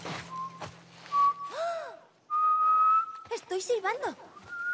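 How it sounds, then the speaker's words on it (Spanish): A person whistles several sliding, sustained tones with short pauses between, close and fairly loud, with brief breathy sounds mixed in. "Estoy silbando."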